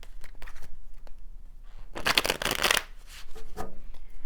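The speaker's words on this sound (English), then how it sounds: "This is not an easy deck to shuffle. It's very slippery." A slippery deck of oracle cards is shuffled by hand. Soft scattered riffles lead into a loud, quick burst of card shuffling in the middle, then a few lighter flicks, heard close with no talking.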